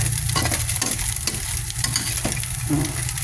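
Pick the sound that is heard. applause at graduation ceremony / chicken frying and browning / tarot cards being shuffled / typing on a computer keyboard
chicken frying and browning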